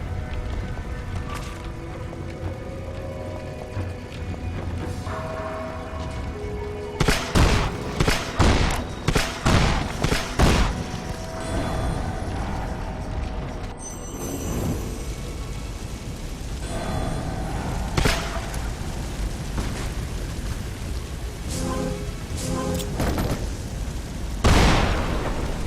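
Cannon fire and RPG rocket blasts from Lara Croft and the Temple of Osiris, a series of loud booming explosions and rapid bursts clustered in the middle and recurring near the end over steady game noise.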